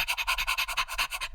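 A person imitates a wire hair fox terrier panting, giving a quick, regular run of breathy huffs, about a dozen in a row, close and fairly soft before it stops abruptly.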